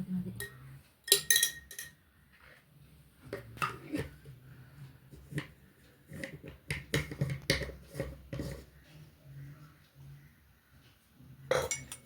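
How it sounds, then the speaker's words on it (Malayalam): A spoon stirs butterfly pea juice with sugar in a glass, producing scattered metallic clinks and scrapes against the glass in irregular bursts, close and fairly quiet, with gaps of near silence between. "നല്ലത് മിക്സ് ചെയ്തെടുക്കാം."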